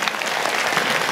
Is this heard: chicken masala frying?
no